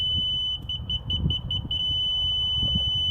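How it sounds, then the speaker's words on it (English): A steady high electronic tone from a laser level receiver holds throughout, with brief pulsing beeps early on, over low rumbling background noise, during a chicken coop build. "When I get the steady tone,"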